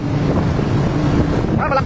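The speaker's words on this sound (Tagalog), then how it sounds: "Full force na naman yung taga-makina!" Fishing boat engine at full force while out tuna fishing, a loud, close, continuous low drone mixed with wind buffeting and splashing water.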